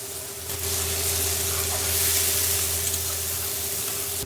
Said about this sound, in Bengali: পেঁয়াজটা আমরা বেশিক্ষণ ভাজবো না, গার্লিক দিয়ে দেবো